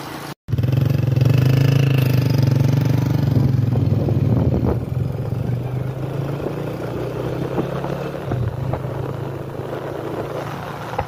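A motorcycle carrying a rider and a pillion passenger hums with a steady, loud engine drone while cruising through Sialkot. The droning continues unbroken throughout, with no talking.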